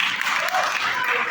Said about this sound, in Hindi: पूरी तालियां